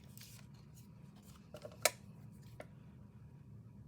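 Scissors snipping a paper scrap, a few quiet close snips and clicks, one sharper cut standing out in the middle against faint room noise.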